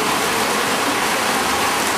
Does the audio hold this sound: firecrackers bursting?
no